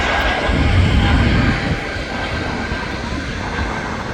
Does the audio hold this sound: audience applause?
no